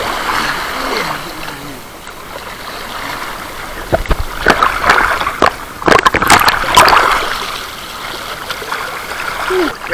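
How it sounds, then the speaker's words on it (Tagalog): Strong river current at a quarry swimming spot, a steady broad rush of flowing water with occasional splashes and sloshing bursts, fairly close, with a few brief voices mixed in. "ang lakas ang agos po"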